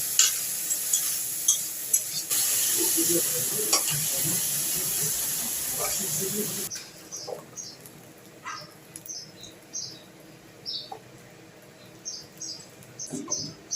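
Shrimp dropped into hot oil in a pan for a mixed vegetable curry, giving a loud, steady hiss and sizzle for several seconds that then fades into quieter, scattered crackles and stirring clicks.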